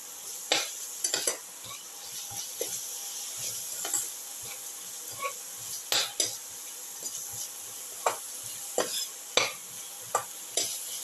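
Onions frying in a pan for a cumin potato coconut casserole: a steady soft sizzle broken by frequent close scraping and clinking stir strokes, with no voice.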